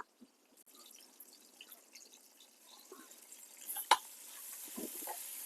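Onions, green chillies and ginger garlic paste frying and being stirred in a pan for chicken biryani, a soft continuous sizzle with scraping stirs and one sharp clink, no voice over it.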